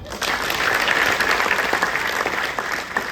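An audience at a Hindi kavi sammelan poetry gathering breaks into loud, dense applause, a continuous roar of clapping that swells quickly and holds strong before easing slightly near the end.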